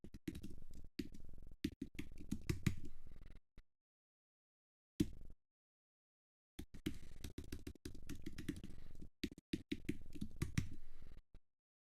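Keys clatter in quick bursts of typing on a computer keyboard, with a short pause, a single stray tap, and then another run of rapid keystrokes, close and clear with no talking.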